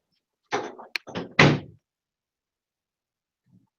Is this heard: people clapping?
no